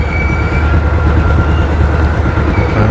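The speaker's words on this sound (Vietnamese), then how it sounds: "Đây có chuyến xe lửa chạy ngang nè." A passenger train passes along railway tracks near Binh Loi bridge in Saigon, a loud, steady, close rumble of wheels and cars with rhythmic clatter throughout.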